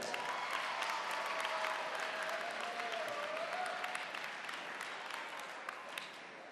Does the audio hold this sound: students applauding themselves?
yes